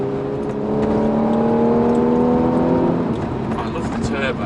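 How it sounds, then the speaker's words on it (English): A turbocharged Audi S4 engine revs with a smooth, rising harmonic drone that climbs and then settles, loud and close, with voices faintly present underneath. "I love the turbo on this. Sounds gorgeous."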